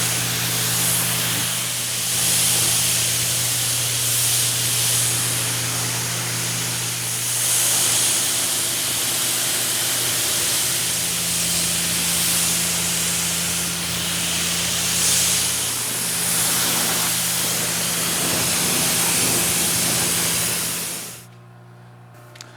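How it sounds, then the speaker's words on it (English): A garden hose sprays water steadily over a Porsche 991.2 GT3 RS during a wash, a loud continuous hiss and splatter with a low hum underneath that cuts off abruptly near the end. "Alright, let's rinse it."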